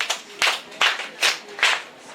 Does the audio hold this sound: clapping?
yes